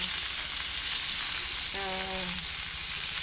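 Lechon paksiw with sayote frying in a pan, a steady close sizzle running throughout with a brief tonal hum in the middle.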